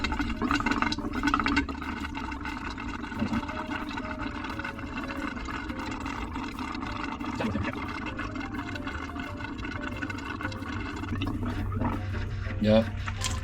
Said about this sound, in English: now I'm going to turn the hot water on